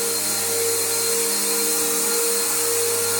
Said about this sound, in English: this vacuum does edge clean pretty good